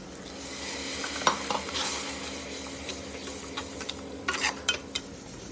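Ginger, garlic, green chilies and curry leaves sizzle in a hot pan while a spoon stirs them, steady frying crackle broken by several sharp scraping clinks of utensil on metal.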